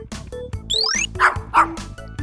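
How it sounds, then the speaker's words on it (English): Electronic dog barks from a toy playset, several loud clipped yaps in quick succession with toy music tones and a rising chime mixed in, close and bright. "Ah, a dog. A mean-looking dog."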